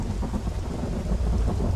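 Thunder after lightning in the video game The Isle: a low, continuous rumble under steady rain, loud and close throughout with no voices.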